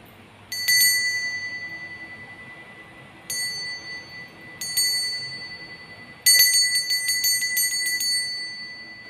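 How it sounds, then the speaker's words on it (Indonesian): A small bell rings to mark the start, its bright metallic dings repeating in bursts: a single strike, then a pair, then a rapid cluster near the end, each fading out between strikes in an otherwise quiet room. "Kita akan memulai dengan ditandai lonceng berbunyi."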